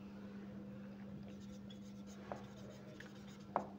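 Faint scratching and tapping of chalk or marker on a board during a secondary-school physics lecture in a classroom, with a couple of sharper taps near the end over a steady low electrical hum.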